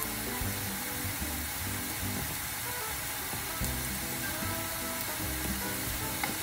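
Microwaved burdock root pieces shallow-fry in oil over medium heat, giving a steady, quiet bed of crackling sizzle throughout with faint pops and stirring noises, no voices.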